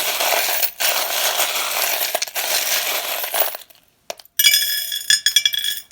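Small charms and two dice cast for a divination reading, first a long rattling shake, then a sharp clatter and a few bright metallic clinks as they land, close and fairly loud.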